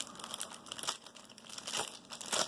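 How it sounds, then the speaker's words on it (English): Plastic packaging around a brand-new SNES Classic controller crinkles softly and close by in irregular bursts of crackling, with no talk over it. "a little bit of crinkling."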